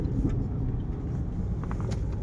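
Steady low rumble of many cars moving around an airport, a continuous close traffic drone with faint higher whooshes from passing vehicles, no talking.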